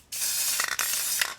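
Aerosol spray paint can nearly empty, giving a loud continuous hiss for about a second with a brief sputter midway, close up and alone.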